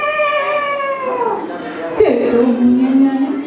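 A voice imitates a cat's meow during a Balinese-language animal-imitation contest: two drawn-out, wavering mewing calls, the second sliding down in pitch, close and fairly loud.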